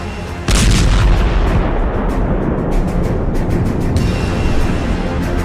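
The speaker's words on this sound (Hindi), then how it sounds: "ईरान की जान खर्ग द्वीप पर होते जरा इन धमाकों को देखिए।" Heavy booming blasts from strikes on Iran's Kharg Island, a loud sudden burst followed by a sustained roaring rumble with scattered sharp cracks, distant but powerful, with no talking.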